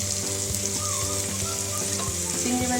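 Small local shrimp frying with bitter gourd in a pan, a continuous close sizzle with a few soft stirring scrapes, while a low steady hum runs underneath and no one speaks.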